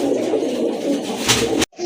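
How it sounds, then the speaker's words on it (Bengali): Black racer pigeons cooing close by, a soft low rolling coo that runs steadily, then breaks off briefly near the end before resuming. "ব্ল্যাক রেসার কবুতর।"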